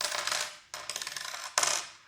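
Coins pour and jingle into a small paper envelope in three quick bursts of bright metallic clinking, close and clear with no talk.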